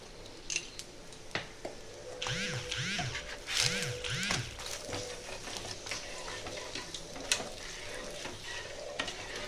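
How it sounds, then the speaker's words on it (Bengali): Bengali-style egg roll frying in white oil in a pan, with a steady close sizzle and crackle broken by a few scraping stirs and brief clatters, no voices. "একটু লালচে লালচে করে এটা ভাজবো।"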